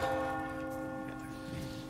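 Church bell tolling in the Resident Evil 4 Remake video game, a single sustained ringing tone that hangs steadily and slowly fades, heard on its own.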